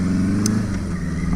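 A Suzuki GS850 scrambler motorcycle engine bogs at low throttle, a loud, close, uneven low rumble that holds steady for just over a second. No voices.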